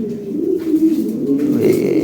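Several pigeons coo continuously, low rolling calls overlapping close by and fairly loud, with no talking over them.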